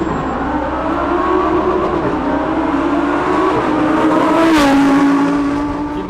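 Lamborghini Huracan STO with a naturally aspirated engine driving past, a loud rising engine tone that builds to a close peak and then shifts pitch as it goes by.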